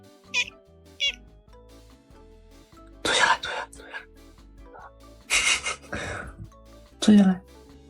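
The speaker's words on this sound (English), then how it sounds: "Macy, meow 3 times if you love me." A kitten lets out a few short, high meows close by, mixed with louder breathy, raspy bursts spaced unevenly across the stretch.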